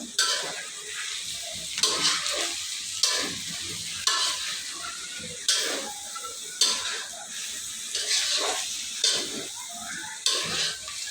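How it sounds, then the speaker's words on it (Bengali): Egg chow mein being stirred in a hot frying pan at home, with repeated scraping strokes of a utensil every second or so over a steady sizzle, close up and with no voices. "এই ঢেলে দিয়েছি এবং এটা আমি এখন নাড়াবো আস্তে আস্তে করে"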